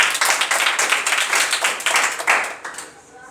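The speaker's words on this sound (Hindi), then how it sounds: "जोरदार तालियां।" Students in a school maths class clap together, a dense burst of close, lively handclaps that fades toward the end.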